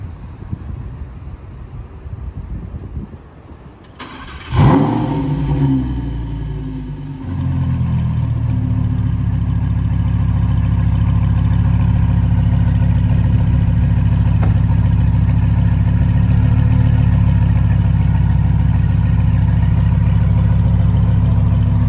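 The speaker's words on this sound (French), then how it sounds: "Au moins on va avoir le start-up, c'est déjà ça de prix." A rare sports car, one of about 80 built, cold-starts on a Paris street with a sharp burst that settles into a loud, steady idle rumble, with wind buffeting the microphone throughout.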